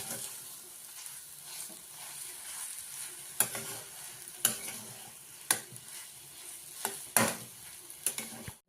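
Potato masala filling for aloo paratha stirred and mixed in a pan, a soft continuous scraping with a faint sizzle underneath and several sharper spoon knocks against the vessel, close and steady with no talking.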